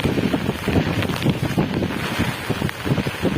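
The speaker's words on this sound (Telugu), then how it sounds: "గాలి పోసేస్తుంది చూడండి ఎలా చూడండి ఆ ఏ చెట్లు చూడండి ఎలా పోతున్నాయో" A cyclone's strong storm wind tears through village trees, a loud, continuous roar with gusty surges and rustling, heavily buffeting the microphone.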